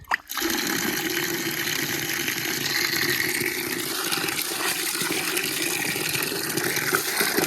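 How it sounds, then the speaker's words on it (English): Tap water gushes steadily over garden lettuce, a loud continuous splashing rush that starts abruptly and runs unbroken for several seconds, with no voices. "Just gonna run more water on it."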